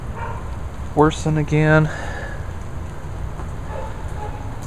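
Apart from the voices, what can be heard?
heavy rain falling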